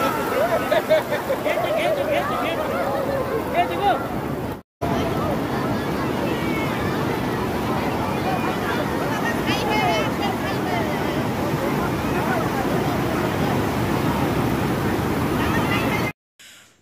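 Sea waves at Puri beach make a broad, continuous wash of surf, with wind buffeting the microphone and a crowd murmuring nearby, broken by one brief cut.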